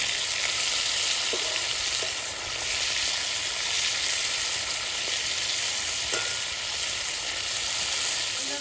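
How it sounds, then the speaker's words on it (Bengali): Small rita fish frying in hot oil give off a steady, even sizzle with faint pops and no talking. "এই মাছ ফুটলে আর ভালো করে ভাজা হয়ে গেছে"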